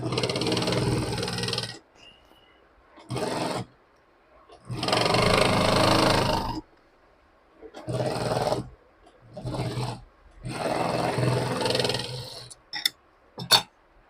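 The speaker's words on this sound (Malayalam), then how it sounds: "അങ്ങനെ സ്റ്റിച്ച് ചെയ്ത് കൊടുക്കുക 4 വശവും." Sewing machine stitching scrap fabric around all four edges, running in several loud bursts of a few seconds each with brief pauses between, ending with a couple of short sharp clicks.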